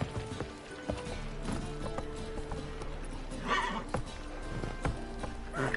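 Roach, the horse in The Witcher 3: Wild Hunt, gives a loud whinny amid steady clopping hooves, with a low background hum running throughout.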